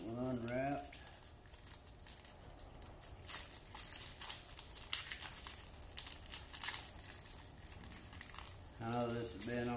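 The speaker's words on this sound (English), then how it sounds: "Get this one unwrapped." Plastic packaging is unwrapped from Custom Dynamics ProBeam LED lights, a sustained close-up crinkling and rustling, with brief speech at the start and end.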